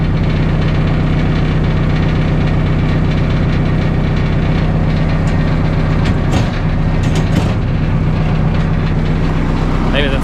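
A Vermeer 1800 wood chipper engine runs steadily at idle after sitting unused for years, a loud, even low rumble with a constant vibrating throb and a few brief clanks over it.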